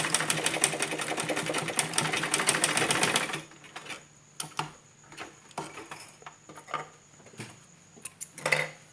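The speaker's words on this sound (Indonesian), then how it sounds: "teknik-teknik dasar menggunakan mesin jahit hitam ini" A black sewing machine runs in a dense, fast stitching burst, then slows to separate clicking stitches as fabric is pulled through by hand.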